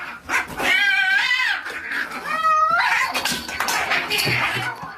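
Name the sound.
cats fighting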